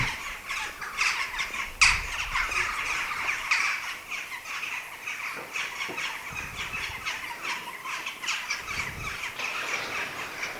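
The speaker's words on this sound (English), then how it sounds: "Listen to the crows." Crows caw sporadically at a distance over steady outdoor background noise in South Brent, Dartmoor, Devon, England, with a sharper call standing out early on.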